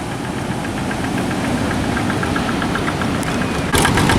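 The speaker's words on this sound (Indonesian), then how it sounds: "Ini nggak sengaja terlihat juga ada traktor ya, membajak pasir, membuat aluran," A tractor ploughing furrows in beach sand at Parangtritis runs as a steady loud rumbling, knocking engine drone, constant and near, with a brief sharper burst at the end.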